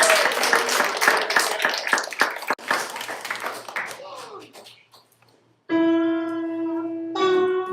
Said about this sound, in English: let's give Georgette one more round of applause